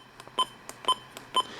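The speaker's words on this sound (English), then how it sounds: "if you don't want to hear these annoying button beeps every time you press a button" Button beeps from a Midland WR400 weather radio: three short, clear electronic tones about half a second apart, with faint button clicks between them.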